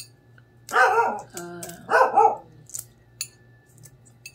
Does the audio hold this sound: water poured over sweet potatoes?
no